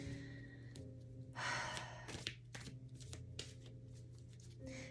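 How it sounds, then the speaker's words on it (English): A deck of playing cards is shuffled sloppily at close range, quiet riffling bursts and soft slaps mixed with audible sighing breaths. "that's just sloppy shuffling"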